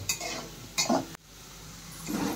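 A spoon scrapes and stirs a sabudana mixture into fried potatoes in a metal pan, with two distinct scraping strokes, a sharp clack, then softer stirring and a faint sizzle at close range.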